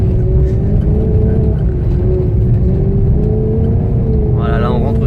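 A Maserati GranTurismo S on the Les Ecuyers race circuit gives a steady, loud engine drone with a slight rise in pitch, heard from inside the car while someone talks over it throughout.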